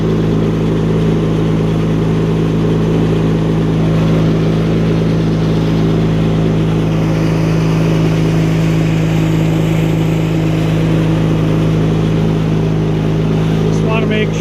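A 1983 Craftsman GTV/16 Varidrive garden tractor engine runs steadily, with a loud, constant low idle drone and hum heard up close for the whole stretch.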